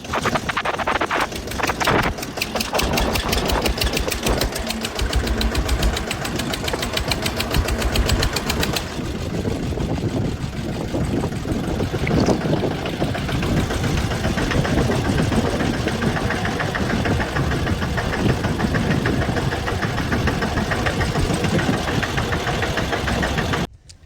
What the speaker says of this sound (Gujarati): આપણે ટ્રેક્ટર પણ ઊભું રાખી દીધું અને સાઈડમાં લઈ લીધું છે